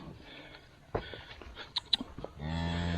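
Cattle being herded give a long, close moo near the end, after scattered clatters and shuffling sounds from the herd.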